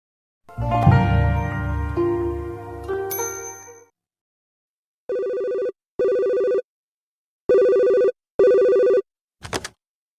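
Telephone ringing in a recorded phone dialogue: after a brief clatter at the start, four even electronic rings in two pairs, clear and close, followed by a short chime.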